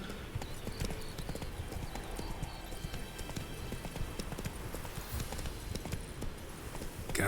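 Roach the horse trots steadily in The Witcher 3, with dense, continuous hoof clip-clops over ambient game background noise for the whole stretch.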